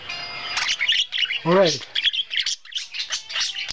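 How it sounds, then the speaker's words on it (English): Birds chirping and chortling in quick, bright bursts of tweets and squawks close by, with a short spoken word partway through. "I'll take that chortling and chirping as a compliment"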